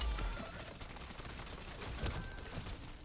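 Video game AR rifle fire in MW3 Zombies comes as quiet rapid bursts of shots with sharp cracks, sitting faint and low in the game mix.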